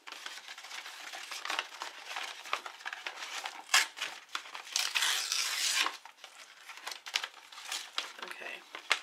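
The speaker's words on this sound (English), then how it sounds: "And you gotta get the corner and then peel that off." A Cricut stencil sheet is peeled off its sticky backing mat, giving close crackling, crinkling plastic sounds in uneven bursts that rise and fall.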